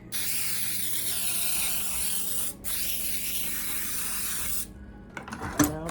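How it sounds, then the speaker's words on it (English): Baker's Joy baking spray hissing out of an aerosol can onto a sheet pan, two long steady bursts with a brief pause between, close and loud, ending with light handling clatter. "We're gonna give this a spray really quick with our Baker's Joy"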